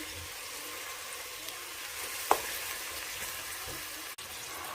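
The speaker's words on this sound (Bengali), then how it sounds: "পেঁয়াজটা দিয়ে দিলাম তেলের মধ্যে।" Sliced onion frying in hot oil for a vegetable curry, a steady close hiss of sizzling with a faint clink of a utensil partway through.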